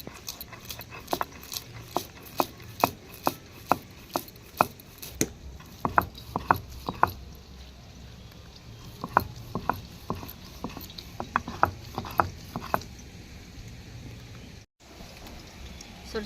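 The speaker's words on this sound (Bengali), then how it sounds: "আমি এখন সরষেটা বেটে নিচ্ছি।" About two spoons of mustard seeds are ground into a paste for sukto, giving close, rhythmic clicking and grating strokes in bursts. A short lull breaks up the grinding, and there is no speech.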